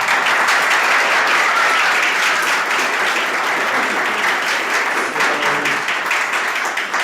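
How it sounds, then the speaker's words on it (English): A lakeside church party crowd applauding the whole family, loud and sustained clapping from many hands that stays full for several seconds without talk. "but a round of applause for the whole family."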